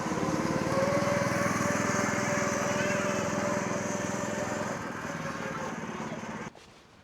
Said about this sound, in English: And you can even ride a go-kart.